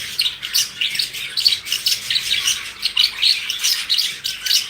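A flock of pet birds, budgerigars in yellow, blue and green, chirps and tweets in rapid overlapping bursts, close and fairly loud, with a busy uneven rhythm and no voices heard.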